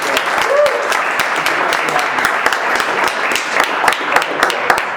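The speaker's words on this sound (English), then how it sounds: "Without further ado, Derek Grant. Big round of applause." Steady audience applause at a sales talk, sustained, even claps filling the room with some crisp individual hand claps standing out, a voice briefly heard beneath.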